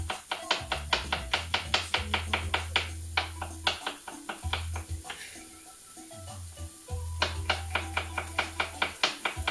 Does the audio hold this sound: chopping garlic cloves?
yes